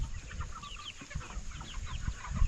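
Freedom Ranger chickens about nine weeks old clucking and chattering on a farm, a busy overlapping flock of soft calls close by, with occasional low thumps and no talking.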